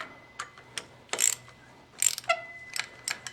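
A hand ratchet clicks in short bursts while snugging up manifold bolts on a Farmall Super M tractor, giving crisp, close metallic ratcheting strokes separated by brief pauses.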